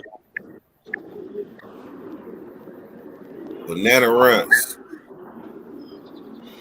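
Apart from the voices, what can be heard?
pigeons cooing in a coop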